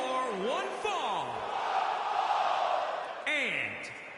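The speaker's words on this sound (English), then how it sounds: "listen to this crowd, guys. They're fired up for this one." Arena crowd from the WWE 2K20 wrestling game roars steadily throughout, a broad loud wash of cheering with a swelling burst near the end, with whooping voices rising above it.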